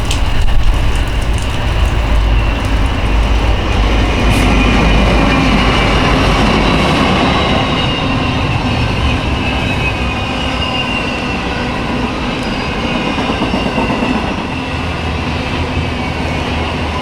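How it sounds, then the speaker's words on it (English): A westbound freight train rolls steadily past, an ACe locomotive leading and a freshly rebuilt C6M second, its loud rumble and rail clatter filling the air close by without letup. "Then our final train came by, which was a westbound with an ace leading and very fresh C6M rebuild trailing second"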